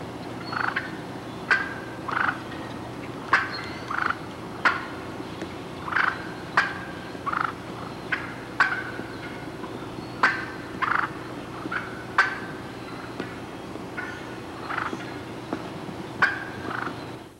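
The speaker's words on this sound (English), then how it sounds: "here's the real thing doing an excited cluck and purr." A wild turkey hen gives a steady series of excited clucks mixed with soft rolling purrs, repeated roughly every second, clear and fairly close with no talking.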